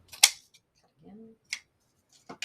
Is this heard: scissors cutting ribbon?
yes